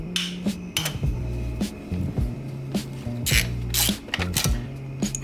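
A DeWalt tool cracks loose the intake manifold bolts on a 2013 Hyundai Genesis 3.8 GDI engine. Close, sharp ratcheting bursts and metallic clicks repeat in uneven short spurts with small pauses between them.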